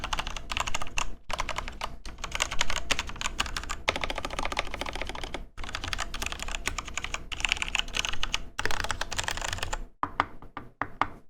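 A custom mechanical keyboard built with Millmax sockets is typed on in a steady, close clatter of keystrokes, with a few brief pauses and a sparser burst of clicks at the end; no one speaks.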